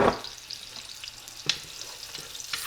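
Hamburger patties fry in a pan with a constant close sizzle, marked by a few sharp crackles and pops of spattering fat and a faint clink of a utensil.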